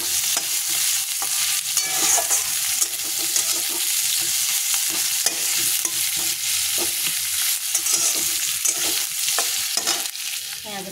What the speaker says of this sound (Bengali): পেঁয়াজ ভাজা ভাজা হয়ে গেছে